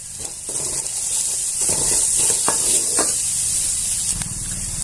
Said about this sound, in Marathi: मिरची छान अशी आपल्याला परतते